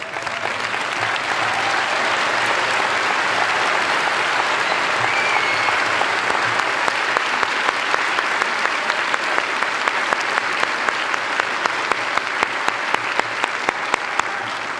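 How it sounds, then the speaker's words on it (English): Audience applause for graduating seniors who completed a senior project at a 2013 high school graduation ceremony: a steady, dense roar of many hands clapping, sustained and loud for the full stretch without talk. "If you completed a senior project, please stand and face the audience for a round of applause."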